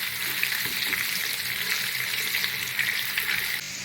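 Potato pieces seasoned with turmeric and salt fry in hot oil for mutton curry, giving a steady, dense sizzle that stays close and loud throughout with no voices over it.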